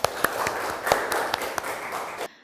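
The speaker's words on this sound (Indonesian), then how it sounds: "Tepuk tangan untuk kita semua." A classroom of students claps hands together after a math lesson answer, a short dense burst of applause with a few sharper individual claps standing out, ending abruptly.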